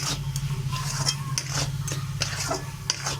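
A spoon scrapes and stirs a grated coconut and milk mixture for narkel naru in a pan over low heat, giving repeated rhythmic scraping strokes with faint sizzling underneath.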